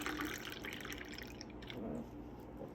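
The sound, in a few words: water poured into a glass of rhubarb tonic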